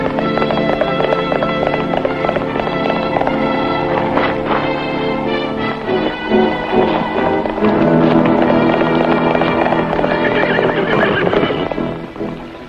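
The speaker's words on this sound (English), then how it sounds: "Listen, you dumb horse." A horse neighs and whinnies loudly in a western film, with hoof clip-clops and movement mixed in, close and continuous throughout.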